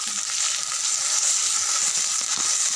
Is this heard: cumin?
yes